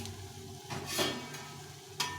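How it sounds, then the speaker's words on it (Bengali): Soya bean muthia fry quietly in a pan, a low continuous sizzle with a couple of brief scraping stirs of a spatula, close and faint. "এভাবে একটু লাল লাল করে ভেজে নিতে হবে"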